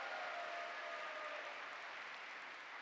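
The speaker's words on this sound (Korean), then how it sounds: "우리 실버들에게 한번 박수 좀 보내드리십니다." Applause from a church audience at a cell-church closing and Christmas festival, a steady broadband patter of many hands that fades slightly toward the end, with no talking.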